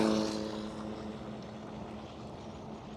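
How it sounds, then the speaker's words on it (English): Malaysia Airlines cargo Airbus A330 lining up on the runway at Amsterdam Schiphol, heard as a distant, steady jet-engine drone and hum with a faint tonal whine, fading slightly over a few seconds and without talk. "A330 lining up right now."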